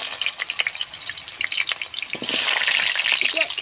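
Potato and kohlrabi pieces frying in hot oil, a steady sizzle that swells into a louder, brighter crackle partway through, close and continuous.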